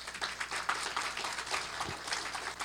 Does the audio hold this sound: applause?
yes